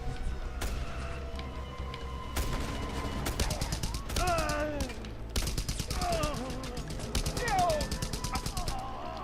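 Video game gunfire in Just Cause 2 crackles in rapid bursts and sustained volleys, mixed with game effects and tonal sounds, fairly close and busy throughout.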